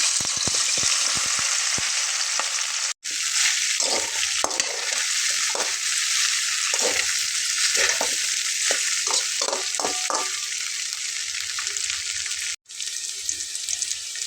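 Okra coated in gram flour frying in hot oil in a kadai, loud and close with a constant bright sizzle, scattered stirring clicks and taps, and two brief dropouts in the sound.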